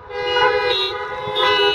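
Car horns honk at a drive-in iftar outside the ISNA Islamic Centre of Canada in Mississauga, Ontario: a loud, close, sustained blare with overlapping tones that swells twice over nearly two seconds.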